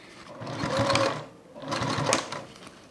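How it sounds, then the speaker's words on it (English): A sewing machine stitches a fabric toiletry bag at close range, running in two steady bursts separated by a short pause. "you don't have to sew all the way down"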